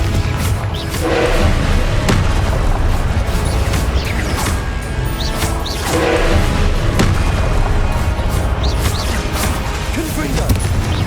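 Repeated Confringo blasting spell explosions in the Hogwarts Legacy video game, several loud booming and crashing bursts spread over eleven seconds amid busy game effects and a voice speaking.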